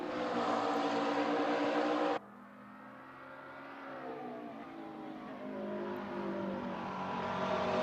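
A McLaren race car in a racing game screams at full revs, then cuts abruptly to a lower, quieter engine drone after a shift or camera change, gradually building again as it accelerates.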